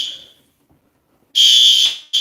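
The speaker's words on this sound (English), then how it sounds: "they fooling with the fire alarms." A fire alarm blares in two loud bursts of steady shrill tone, a long sounding and then a short restart after a brief fade.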